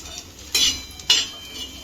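Spatula scraping and clinking in a pan as masala spices are dry-roasted and stirred for a village-style chicken curry, two distinct metallic scrapes over a quiet background.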